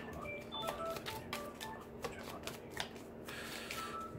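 Tarot cards are shuffled up close for a card draw, in quick bursts of riffling and flicking that run continuously with no talking.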